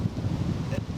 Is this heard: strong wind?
yes